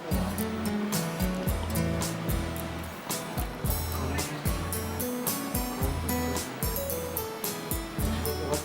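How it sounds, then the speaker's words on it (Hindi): Chopped onion, about one and a half cups, hits a hot pan for badami tawa qeema, setting off a loud, steady hissing sizzle that runs throughout over low background music. "इसमें हम डाल देंगे चॉप्ड प्याज"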